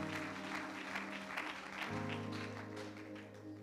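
A church congregation applauds during a Sunday worship service, steady dense clapping lasting throughout with music and a held organ-like tone underneath.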